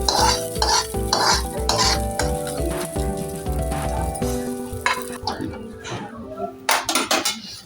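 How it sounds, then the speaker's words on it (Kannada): Curry leaves fry in a pan for North Karnataka-style kattu saaru, with rapid metal spatula clatter against the pan over a bright sizzle. A steady tonal hum sits underneath, and scattered clinks follow. "ಕರಿಬೇವನ್ನ ಚೆನ್ನಾಗಿ ಹುರಿಸ್ಕೋಬೇಕು"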